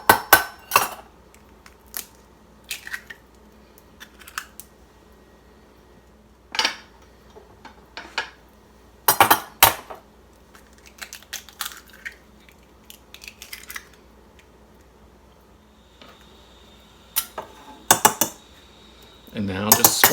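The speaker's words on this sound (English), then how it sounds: "Next, I'm going to break the eggs and scramble them up." Sharp clinks and taps of utensils against a bowl come in scattered bursts with quiet gaps between them as eggs are broken and scrambled, close and fairly loud.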